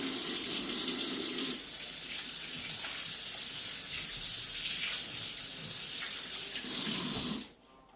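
Kitchen tap water pouring steadily into a sink while hands are washed under hot water, a loud, even hiss lasting several seconds before the flow shuts off abruptly.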